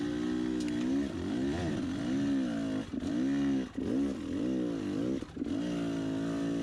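Hard enduro dirt bike on a trail hot lap, its engine revving loud and close, rising and dropping repeatedly as the rider works the throttle through rough terrain.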